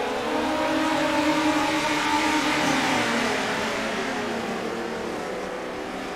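Pack of ten midget race cars at Charlotte roaring off together at the green flag for a ten-lap last chance qualifier, a loud sustained engine drone with rising pitch that stays close and steady, then fades slightly as the field pulls away.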